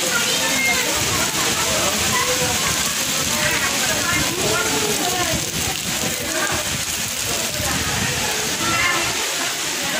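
Heavy, steady rain pours down in a dense, loud wash of droplets with no pauses, and voices are faintly audible beneath it.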